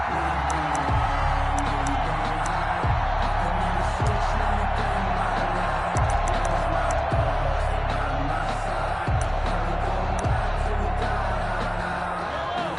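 Stadium crowd noise from a PS4 American football video game, a steady loud roar of fans with scattered cheers throughout, under occasional faint commentary.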